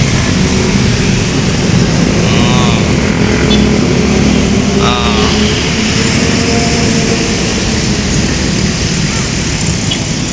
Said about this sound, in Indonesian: Rombongan geng motor kalau yang lewat.